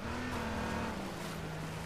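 Car engine in the game H1Z1 humming steadily at a sustained pitch, close and continuous, slowly dropping slightly in tone with no talking over it.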